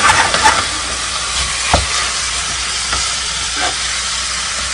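Hamburger meat browning in a pan for chili with celery, giving a steady broad sizzle and hiss close by, broken by a few sharp clinks and scrapes of a spoon stirring through the meat.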